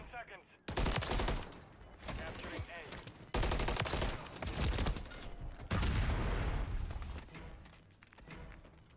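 Rapid bursts of gunfire from a ranked shooter video game come in three loud volleys, dense and crackling, with quieter gaps between.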